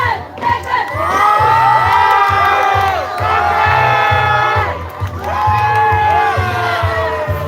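A large crowd of spectators and children at the start of an Indonesian Independence Day women's 17 km walking race cheers, whoops and shouts in loud, sustained waves over a steady pulsing beat.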